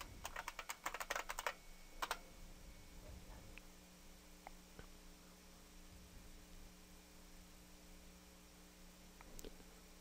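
A quick burst of keystrokes types a password on a computer keyboard, then trails into a few sparse clicks over a faint electrical hum.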